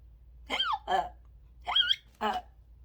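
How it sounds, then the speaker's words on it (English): Four distinct hiccups come in two pairs, each a short, voiced, squeaky gulp, sounding like a voice performing a storybook character's hiccuping rather than a natural reflex. "She's hiccuping."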